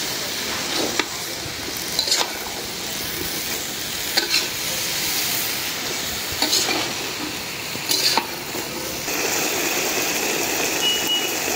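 Potatoes frying in hot oil in a pan while spices are being cooked down for a Bengali fish curry, with a steady sizzle and periodic scraping stir strokes roughly every two seconds, close and fairly loud, no talking.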